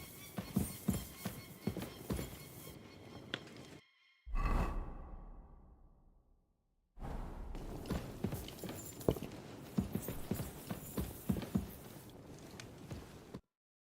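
Rhythmic clip-clop of horse hooves trotting in the video game Kingdom Come: Deliverance II, broken midway by a whooshing transition, then the hoofbeats resume at a steady pace, close and clear.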